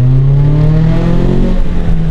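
Scion tC engine with the muffler removed, a raw, rumbling exhaust note rising and falling through a short rev, loud and close, with no talking.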